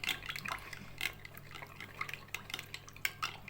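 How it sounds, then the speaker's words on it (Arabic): A spoon stirs gelatin in warm water with quick, repeated light clinks against the container and soft liquid swishing, close but quiet over a low background hum. "انا الميه هنا معايا دافيه مش سخنه، وهنقلب كده بالمعلقه بسرعه"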